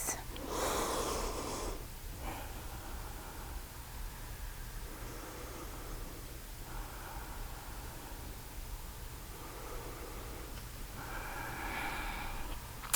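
Slow, deep Ashtanga yoga breathing held during a pose, several long audible inhales and exhales with a soft hissing, wheezy quality, close and fairly quiet, spaced a few seconds apart with no talk.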